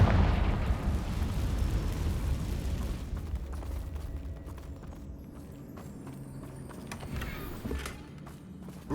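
A Confringo fire spell explodes in Hogwarts Legacy with a deep, heavy boom that rolls out and decays into a long low rumble and scattered debris crackles, fairly faint overall with no talking.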